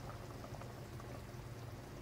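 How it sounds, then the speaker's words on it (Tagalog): Fish soup simmers in a pot, a soft continuous bubbling and burbling at low level with no voices. "Kumukulo na siya guys."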